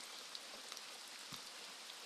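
Heavy rain falls on a hut roof in a mountain setting, a dense steady patter with occasional sharper drops, soft and continuous with no voices.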